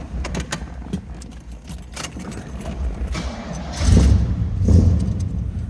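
Keys jangle and a starter cranks, then a 1970 Oldsmobile Cutlass convertible engine catches with two loud bursts of revving rumble near the end.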